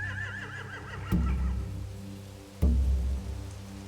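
Horses in The Walking Dead: The Final Season video game whinny with a wavering neigh, followed by two sharp thuds like hooves striking wood, each with a low rumble, all against a soft rain-like background.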